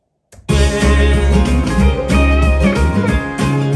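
After a brief pause, a dense band mix starts loud, with electric guitar licks winding over bass and drums, steady and close.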